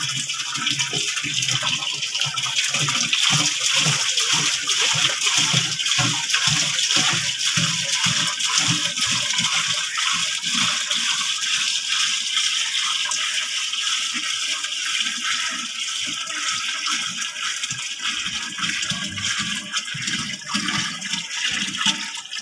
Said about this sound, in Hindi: ये पानी हम लिक्विड मिक्सर के अंदर डालेंगे।